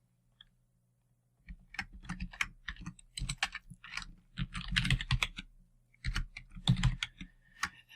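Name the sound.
typing code on a computer keyboard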